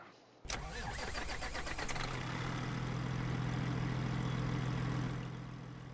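A truck in Farming Simulator 22 on PS5 cranks with a rapid rattling starter for about a second and a half, then catches and settles into a loud, steady low idle that drops away at the very end.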